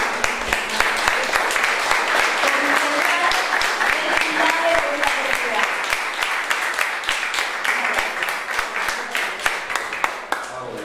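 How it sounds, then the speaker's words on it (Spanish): Audience at a lecture on teenage pregnancy breaks into a long, full round of applause, with many distinct hand claps rippling through it at a steady level. "yo les doy un aplauso a ustedes"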